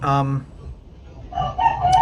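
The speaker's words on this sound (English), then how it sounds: "I hear the rooster." A rooster crows loudly and close by on a farm in the Philippines, its drawn-out call opening the clip, and voices then come in over the rest.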